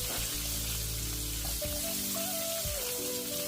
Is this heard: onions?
yes